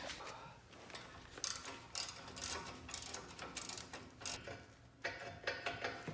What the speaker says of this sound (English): It holds a hard cable, so we're gonna remove that. Torx 50 there.